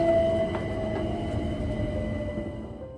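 Inside a moving London Overground local train, a steady low rumble of the carriage fills the space with faint tonal hum and a few soft clicks, fairly quiet and even throughout.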